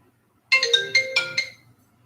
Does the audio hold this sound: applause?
no